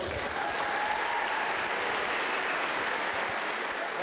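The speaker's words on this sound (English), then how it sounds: "Big round of applause." An audience at a Marine boxing event for the Armed Forces Championship applauds during a medal ceremony, giving dense, sustained clapping that stays steady and fairly loud from start to finish.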